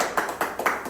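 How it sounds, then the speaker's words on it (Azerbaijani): A small group applauding themselves after setting up a New Year tree in a hall: a brief run of three or four sharp, fairly soft claps at a steady pace, with no talking. "Özümüzün alqışlayaq."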